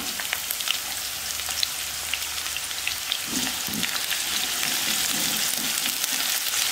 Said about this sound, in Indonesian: Kita goreng bawang merahnya hingga berwarna merah, lalu kemudian nanti kita angkat.